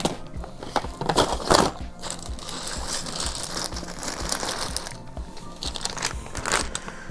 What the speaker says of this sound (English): Now let's get some keycap action going on here.